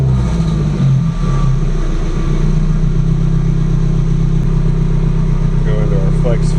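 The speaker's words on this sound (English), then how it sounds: "Alright, and we should be able to hit the throttle." A Subaru GC8 with a flex-fuel tune, freshly warmed up after a cold start, holds a loud, steady engine drone close by that rises only slightly as the throttle is pressed.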